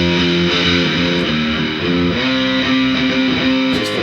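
Electric bass played through a SansAmp GT2 pedal on the California hot wired setting with extra high distortion, a gritty sustained riff of held and shifting notes, loud and continuous with no talk.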